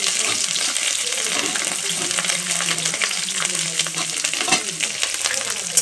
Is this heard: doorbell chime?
no